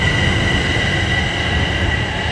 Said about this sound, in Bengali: মেট্রো চলে গেল